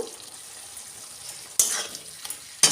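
Ivy gourd simmers and fries as its water cooks off, a faint low sizzle broken by a couple of sharp spoon-stirring scrapes in the pan.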